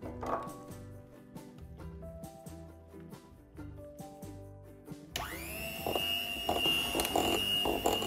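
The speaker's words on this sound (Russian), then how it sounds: "И все взбиваем до однородной массы." Champagne cake batter beaten smooth in a bowl. Tonal clinks and a whirring hum give way midway to a louder, steady motorised mixing drone that continues to the end, with no talking.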